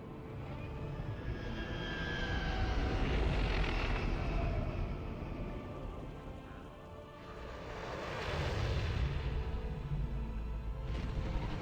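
A starship descending to a landing zone at a military outpost in Star Wars: The Old Republic, a loud continuous roar of engines that swells twice and fills the whole stretch, with no talk.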